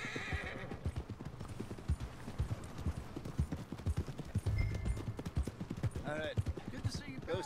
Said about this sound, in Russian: Блин, огромный конь.